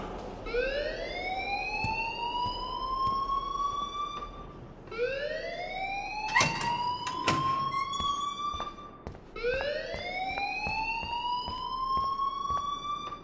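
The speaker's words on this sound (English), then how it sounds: "please turn off that alarm since that's your job." School alarm ringing in the video game Life is Strange: a loud electronic wail that sweeps upward and holds, repeating three times in steady cycles, with no talking.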